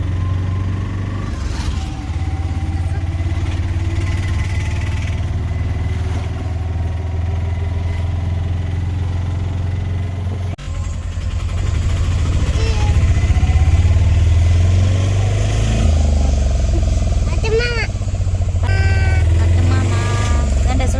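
A small auto rickshaw engine chugs steadily close by, with a low droning rumble, traffic noise and scattered voices around it.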